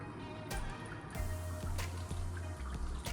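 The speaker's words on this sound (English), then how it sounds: "It's just a little hose hooked up to the water." Water trickles steadily from a small hose during wet sanding of a Honda Type R's paint, a soft, close, continuous flow with a few brief clicks and drips on top.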